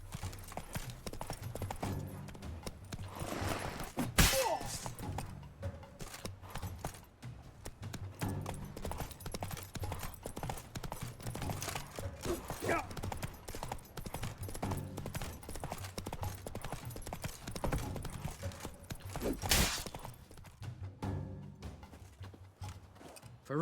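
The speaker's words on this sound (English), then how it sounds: "Run, Roach." Hooves of the horse in The Witcher 3 Wild Hunt: Blood and Wine clatter in a fast, steady galloping rhythm that continues throughout, with a couple of sharp louder impacts and game ambience underneath.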